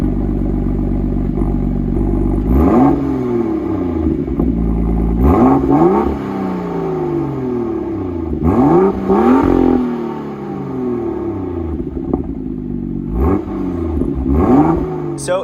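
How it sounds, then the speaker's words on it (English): BMW M2 LCI with its exhaust valves held wide open, revving hard in a run of loud, close throttle blips that rise and fall roughly every two to three seconds, with no talk over it. "So you're able to have the valves wide open to make it as loud as possible,"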